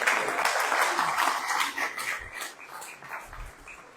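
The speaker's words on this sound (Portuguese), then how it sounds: "Aplauda Jesus pela sua vida." A church congregation claps and cheers together, a busy crowd applause that swells early and gradually fades over a few seconds.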